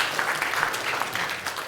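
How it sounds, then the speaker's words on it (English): Conference audience applauding, a dense, even patter of many hands clapping at moderate distance, brief and steady without voices. "It's worth applause"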